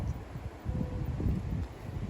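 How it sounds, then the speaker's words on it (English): Gusty wind buffets a garden outdoors on a blustery day, a low rumbling roar against the microphone that swells and eases over two seconds, with no voices. "Truly a windy day"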